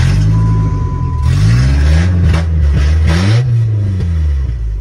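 A car engine with its O2 sensor left hanging runs loud and coarse like a truck, its droning exhaust note climbing and falling through several revs, close and with no one talking.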